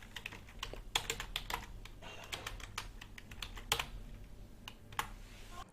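Typing a password on a computer keyboard, a series of crisp, close key clicks in an irregular rhythm with a few harder taps, quiet and alone without voices.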